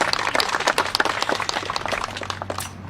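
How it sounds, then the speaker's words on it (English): Scattered outdoor applause from a small audience at a Disability Pride flag raising ceremony, distinct individual claps over about three seconds, tapering off at the end. "Yes, let's applaud for that."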